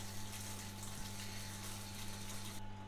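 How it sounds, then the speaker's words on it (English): A noisy shower runs steadily, its broadband hiss of falling water constant and close with a low mechanical hum beneath, no voices. "I have a working shower. It's quite noisy, as you can tell"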